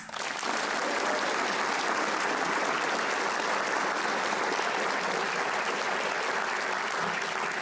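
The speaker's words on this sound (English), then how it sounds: "Let's give our award winners and our generous scholarship donors one more round of applause." Sustained applause fills the hall at a high school awards and commencement ceremony, a dense, steady roar of many hands clapping together at an even level for several seconds.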